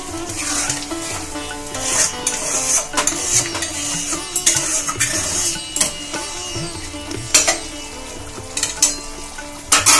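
Prawn masala sizzles and spatters loudly in a pan as a little water is added. A spoon scrapes and clinks against the metal in irregular bursts, with no talking.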